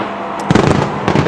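New Year's fireworks over London in 2025 pop in a couple of sharp, crackling bursts above a steady, loud outdoor din.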